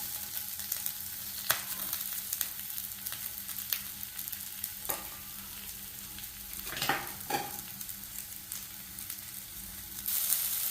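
Onions sizzling as they sauté toward brown in a pan for vegetable kurma, a soft steady fry broken by occasional stirring scrapes, close and fairly quiet.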